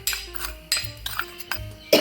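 A spoon clinks and scrapes against a bowl while stirring salt and chili powder together, four sharp metallic knocks at even intervals with softer scraping between, close and clear with no talking.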